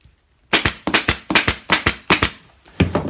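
A staple gun fires staples into upholstery fabric on a stool, giving a series of about ten sharp, loud snaps in quick pairs and clusters, close up with no talking.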